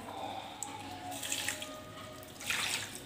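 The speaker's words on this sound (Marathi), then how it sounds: "आता तांदूळ धुवून घेते आहे" Rice being rinsed under a running kitchen tap, with steady streaming water and splashing into a sink and a few brighter splashes toward the end, close and moderately loud with no talking.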